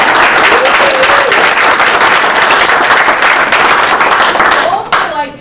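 An audience at an award ceremony breaks into sustained applause, dense and loud clapping from a crowd in a hall, fading briefly near the end.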